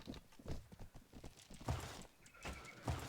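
Horse hooves gallop in the Mount and Blade Warband video game, a fast run of sharp clip-clop beats with a whinny cutting through, fairly close and loud with a few heavier thuds.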